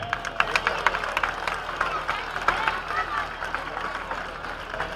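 A crowd at a Valencia trobada applauds the moixaranga group, a fairly distant patter of scattered claps mixed with cheering and people talking.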